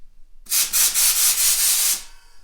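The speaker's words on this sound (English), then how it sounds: "I get some compressed air and I just blow here." Compressed air blasting through a graphite golf shaft, a loud steady hiss lasting about one and a half seconds with slight pulsing, heard alone.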